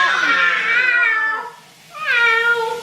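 A house cat gives two loud, drawn-out meows close by, the first long and falling, the second rising after a short pause, with no talking.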